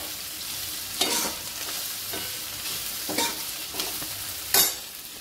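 Capsicum sautés in oil in a pan: a continuous sizzle carries four evenly spaced scraping stirs of a spatula, the last one loudest, with no voice over it.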